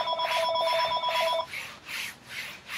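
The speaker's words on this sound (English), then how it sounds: "Answer the phone, Hubs." A telephone rings close by, a bright electronic trill that keeps pulsing for about a second and a half before stopping, over a soft rhythmic rubbing or sanding noise that keeps going underneath.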